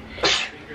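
A single short sneeze bursts out sharply against a quiet room background.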